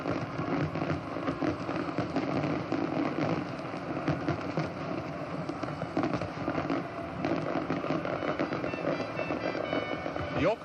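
Fireworks burst over Sydney Harbour during the 1986 Royal Australian Navy Fleet Review display, a dense continuous crackle and popping of explosions that never lets up, loud and fairly close.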